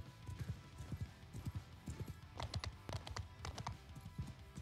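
Cavalry hooves in the medieval battle game Mount & Blade II: Bannerlord pound in a dense, rapid clip-clop as horsemen charge, loud and close, with a faint horse whinny, no speech.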